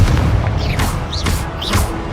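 Confringo spell explosions from the Hogwarts Legacy video game go off in quick succession, several sharp booming bursts spaced about half a second apart.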